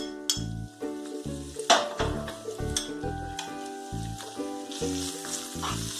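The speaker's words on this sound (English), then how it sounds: "Stir for 30 seconds." A spoon stirs cabbage, carrot and boiled green peas frying in a pan for mutton soup, giving a steady sizzle with scraping clinks under loud background music.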